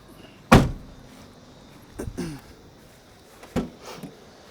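Rear barn doors on the boot of a 2021 tow vehicle are opened, giving a sharp latch clunk followed by two softer thuds and clicks spread across a quiet garage space.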